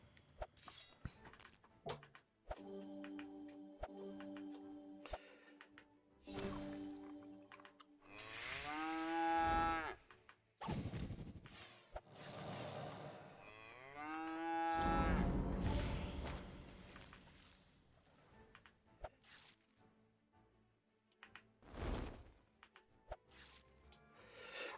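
A cow kick ability in an MMO video game produces cow moos with harmonic, sweeping calls, two especially loud, over a busy stretch of game effects and clicks.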